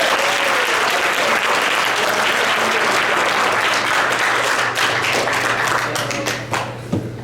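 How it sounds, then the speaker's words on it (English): A roomful of people at a boys' water polo banquet applauds a teammate named Arjan, loud, close, sustained clapping that thins into scattered individual claps toward the end. "Round of applause for Arjan."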